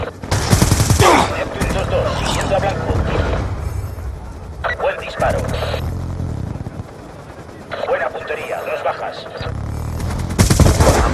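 Bursts of rapid automatic gunfire crackle loudly in several volleys in a video game match on the Slums map, with voices talking in between the bursts and underneath them.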